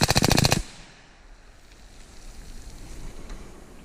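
An AR rifle fitted with a Rare Breed FRT forced reset trigger fires one short, loud, rapid burst of shots outdoors, followed by quiet wind and ambient noise.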